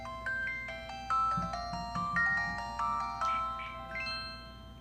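A phone plays an electronic ringtone melody: a string of bright, beeping synthesized notes stepping up and down in a quick repeating pattern, each phrase starting sharply and decaying, loud and close with no voices.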